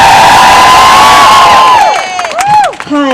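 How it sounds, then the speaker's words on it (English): A large audience at an evening talk event bursts into loud applause and cheering with whoops, the roar swelling and then tapering off toward the end. "applause, please."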